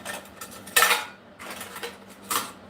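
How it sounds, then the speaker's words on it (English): Camping cookware, a small cup and a frying pan, clanks and rattles as it is handled, with a few sharp metallic clatters rising above softer scraping and rustling. "Got me a little cup there if I need to get some water or what have you. Check this out. Right there's me a frying pan if I need it."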